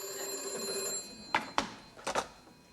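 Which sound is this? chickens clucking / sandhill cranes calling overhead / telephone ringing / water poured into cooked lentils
telephone ringing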